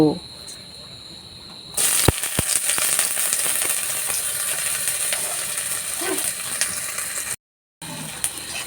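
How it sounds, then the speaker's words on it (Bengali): Onions frying in oil in a hot pan while making an aloo sandwich, a steady close sizzle that bursts in loudly after a quiet start and hisses on evenly, briefly cutting out near the end. "এখন আমি পেঁয়াজটাকে লাল লাল করে ভেজে তুলব"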